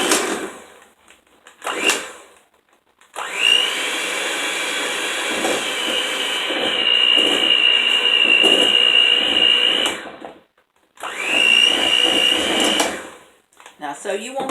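Electric mixer beating butter with cinnamon in a home kitchen, a steady loud whirring drone that runs for several seconds, stops briefly, then starts again, with a voice heard faintly at the start.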